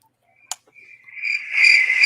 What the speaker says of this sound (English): There's the crickets.